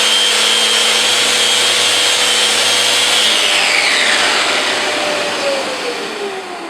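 A Festool Rotex 150 sander fitted with 60 grit granite paper on a hard sanding disc runs steadily with a broadband whir and grinding hiss, close and loud, winding down slightly near the end.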